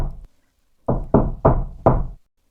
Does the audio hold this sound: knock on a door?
yes